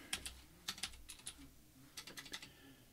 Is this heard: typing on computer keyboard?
yes